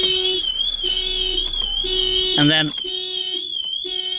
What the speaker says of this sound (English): alarm goes off